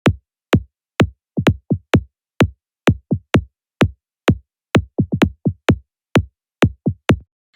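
Tech house kick drum fill shaped by EQ into a heartbeat-like knock: punchy kicks land at a steady pulse, with softer doubled knocks slipped between them, dry and isolated.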